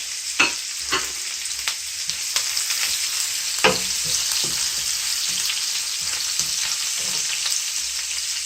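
Green chili sizzles and crackles steadily in hot oil with garlic and ginger paste for a salmon curry, with occasional stirring clicks and scrapes throughout.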